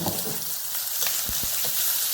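Onion, asafoetida and curry leaves crackle in hot tempering oil, a loud dense sizzle filling the short stretch with a couple of low thuds as they hit the pan.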